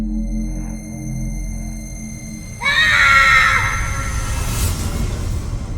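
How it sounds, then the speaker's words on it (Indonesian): A loud, sustained scream rises suddenly over a low droning background in the middle of a spooky kuntilanak ghost story, holding strong for a few seconds before trailing off into noise. "Mendengar teriakan keras"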